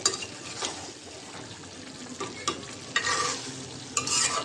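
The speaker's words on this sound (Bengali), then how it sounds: "আর ঢাকনা দেবো না, এখন ভালো করে কষাই নেব।" Chicken in ground spice paste is stirred in a hot pan, with soft sizzling under a run of scraping strokes and clinks of the spoon against the metal, spaced irregularly and fairly quiet.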